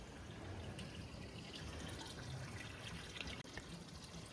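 Water runs steadily from a tap to refill a bucket for sheep on a farm, a soft continuous rush with a brief small knock near the end, heard faintly with no talking.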